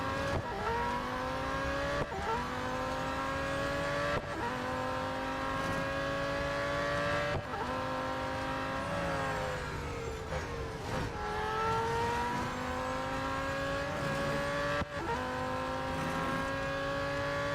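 The McLaren Solus GT race car in Real Racing 3 roars continuously, its engine note climbing repeatedly through the gears with sharp shift breaks, dipping briefly under braking before revving up again, loud and close throughout.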